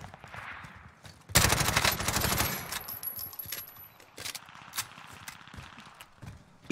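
Gunfire in a video game, a loud, rapid burst of automatic shots lasting a couple of seconds, followed by scattered single shots and clattering effects.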